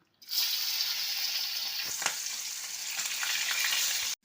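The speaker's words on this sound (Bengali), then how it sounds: "আমি এখন লবণ হলুদ দিয়ে মেখে মাছের মাথাটা ভেজে নেব" A catla fish head, rubbed with salt and turmeric, fries in white oil with a loud, steady, close sizzle that runs unbroken for about four seconds, with a few sharper crackles and spits along the way, and no voices.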